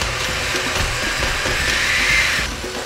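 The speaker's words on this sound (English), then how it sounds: "I'm going to mix that all together in my blender." A kitchen blender whirs steadily as it purees black beans, walnuts, vanilla and coffee into brownie batter, a continuous close grinding drone with slight shifts in pitch and no voices.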